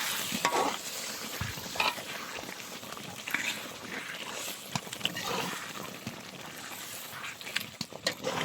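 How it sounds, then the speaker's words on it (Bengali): Spiced chest meat with soft bones being stirred and fried in a pan: irregular scraping strokes of a spoon over a steady close sizzle, with occasional louder knocks against the pan. "মাংসটাকে কষাইতেছি বেশ ভালো মতো।"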